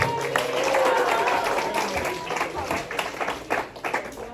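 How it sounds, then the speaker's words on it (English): Audience applause at a campus coffeehouse comedy show, a dense steady wash of many hands clapping at close range, with some crowd voices mixed in, gradually thinning into scattered claps toward the end. "Let's give her a round of applause."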